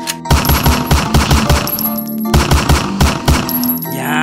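Rapid machine gun bursts in repeated volleys, loud and close, with short pauses between strings of shots and no talking over them.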